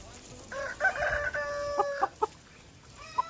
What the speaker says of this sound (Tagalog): Tatakot kasi siya sa mga manok dito sa likod.